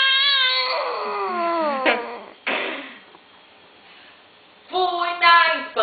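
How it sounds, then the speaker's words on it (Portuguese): A cat lets out drawn-out, wavering screeches, two long cries with a short harsh yowl between, loud and close. "Dona Chica de Miro, do berro que o gato deu."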